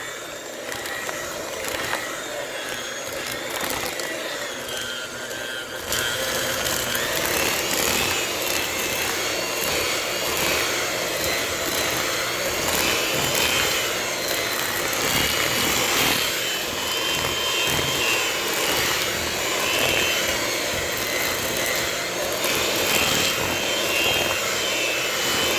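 An electric mixer whisks margarine for Ghana doughnuts, giving a steady, loud whirring drone that runs without pause for the whole stretch and grows slightly fuller after the first few seconds.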